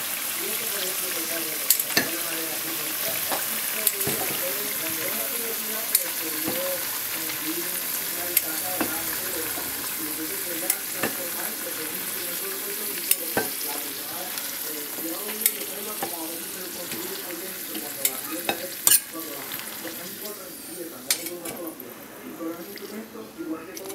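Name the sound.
plantain slices frying in hot oil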